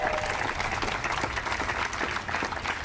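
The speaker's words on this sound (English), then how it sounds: "join the chorus of thanking Eileen Montour, who deserves all of the applause" Audience applause at a groundbreaking ceremony, a steady dense clapping from a crowd that holds at an even level throughout without a break.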